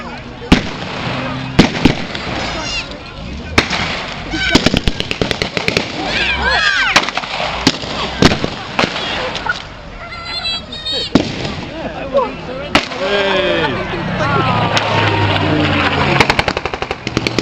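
Spitfire ground attack display at a V.E. Day show at the Royal Gunpowder Mills, with loud bursts of simulated gunfire and repeated sharp explosions, close and continuous, under a commentator's voice.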